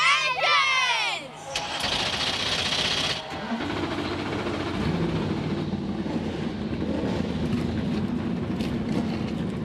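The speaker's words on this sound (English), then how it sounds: "Drivers, start your engines!" NASCAR Cup Series stock car engines firing up at Darlington Raceway for the Goodyear 400, a loud rumbling roar that builds and holds steady after a crowd-like burst at the start.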